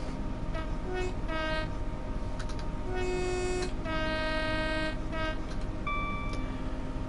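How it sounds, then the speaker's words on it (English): An MP15 shunter switcher locomotive in Train Sim World 2 sounds repeated short and long horn blasts over a constant engine rumble and track noise, with no talk. "The MP15 is a great little shunter switcher."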